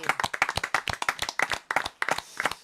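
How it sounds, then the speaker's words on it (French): A television studio audience gives light applause, a sparse scattering of distinct hand claps in quick irregular bursts, close and moderately loud, with no talk. "j'aimerais qu'on l'applaudisse déjà"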